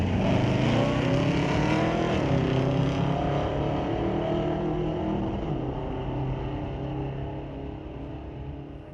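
A Chevrolet Malibu and a Ford Mustang drag race down a quarter-mile strip at a street-legal night at the track, engines roaring loudly and rising in pitch before slowly fading as they pull away.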